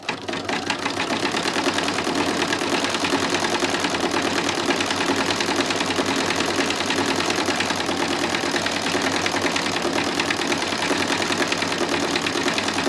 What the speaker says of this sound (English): So I am going to let it do the decorative stitch and hold those threads.